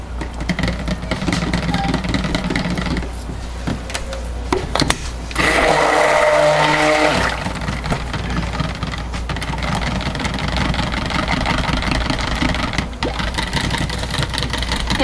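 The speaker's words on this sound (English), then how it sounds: "I didn't clean my stick blender off last time." A stick blender whirs through soap batter in steady pulses, its motor buzzing loudly and close, with a brief louder surge midway and no talking.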